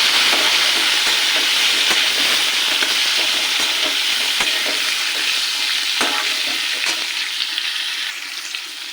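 Thick-cut strips of pumpkin and potato fry in a hot pan while being stirred, giving a loud, continuous sizzle broken by scraping clicks, easing off slightly near the end.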